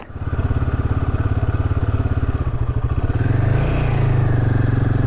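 A rented motorcycle being ridden on the Coromandel Peninsula runs steadily at close range with a throbbing, pulsing idle that rises into a revving acceleration partway through.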